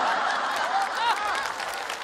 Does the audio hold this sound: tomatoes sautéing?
no